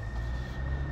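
A train at a railway station gives a steady low rumble with a constant high whine held over it, loud and continuous for about a second with no talking.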